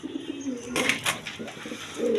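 An Indian Bombai pigeon coos softly at close range, a few low throaty calls with a brief rustle midway.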